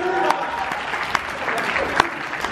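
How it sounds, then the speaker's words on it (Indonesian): Audience applause fills a festival hall at Ideafest 2019, a continuous patter of clapping with a few sharper claps standing out and faint voices in the crowd. "Tepuk tangan!"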